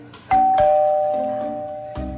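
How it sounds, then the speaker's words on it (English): A doorbell at a house rings a clear two-tone ding-dong, loud and close, its chimes sustaining and fading, followed by a soft knock or tap at the end. "Pag mayaman, may doorbell talaga."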